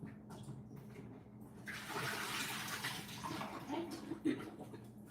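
Apples rinsed under a running tap, a soft continuous splash and stream of water with small clatters near the end, faint and close.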